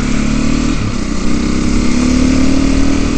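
A small dirt bike's engine revs loud and close on a green-lane trail ride, a buzzy steady drone that climbs in pitch toward the end, with no one speaking.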